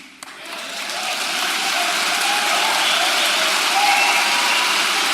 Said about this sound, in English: are you all applauding about that?